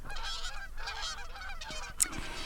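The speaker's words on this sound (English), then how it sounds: "some geese flew south" A flock of geese honking repeatedly, overlapping calls in a steady noisy outdoor background.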